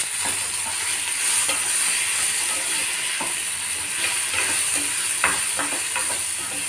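Ridge gourd with turmeric and salt sizzles steadily in a hot pan, a continuous bright crackle with occasional stirring scrapes and clicks, close and without talk.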